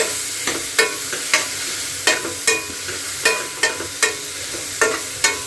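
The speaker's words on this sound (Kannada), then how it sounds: "ನಾನು ಟೊಮೊಟೊ ಸ್ವಲ್ಪ ಚೆನ್ನಾಗಿ ಸಾಫ್ಟ್ ಆಗುತ್ತೆ ಅಂದ್ಬಿಟ್ಟು ಫ್ರೈ ಮಾಡ್ತಾ ಇದ್ದೀವಲ್ಲ" Onions and a large tomato frying in a pan for a mushroom gravy, with a steady sizzle broken by regular scraping stirs of a spoon roughly every half second, close and alone with no talk.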